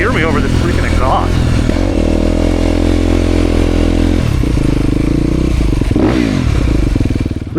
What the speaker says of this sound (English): I wonder if you can even hear me over this freaking exhaust.